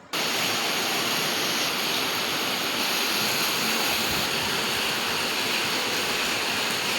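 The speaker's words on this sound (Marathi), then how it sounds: "एवढा तुफान पाऊस सुरू आहे" Torrential monsoon rain pours down outside in Pimpri-Chinchwad during flooding, a dense, loud, unbroken roar of rushing water that holds steady from start to finish with no voices.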